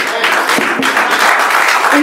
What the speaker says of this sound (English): If you can please hold your applause and your comments